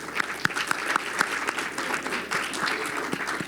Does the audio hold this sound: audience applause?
yes